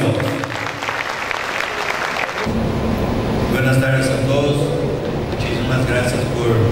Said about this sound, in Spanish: Más fuerte los aplausos.